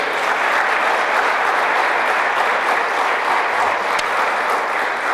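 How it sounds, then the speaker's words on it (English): A school audience at a STEM opening day gives a round of applause, a dense, steady wash of clapping that holds evenly throughout without voices on top. "So let's give him a round of applause"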